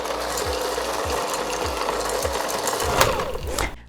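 Mixing Mini Egg chunks into cookie dough by machine, a steady whirring motor with a rhythmic thumping pulse and rattling chunks, loud and close, stopping abruptly at the end.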